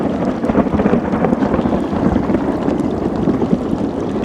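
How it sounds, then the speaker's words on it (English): Heavy rain pours down on a bayou during a thunderstorm, a dense, loud, continuous wash with low rumbling of thunder underneath and no voices. "it's raining pretty good right now"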